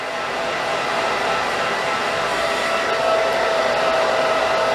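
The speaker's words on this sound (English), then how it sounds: "See, I'm using my blow dryer as a tool." A blow dryer runs continuously and loudly, drying hair during an A-line haircut in a cosmetology setting, a steady even whoosh with no pauses.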